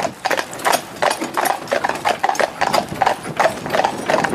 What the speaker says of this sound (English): See the horse, look.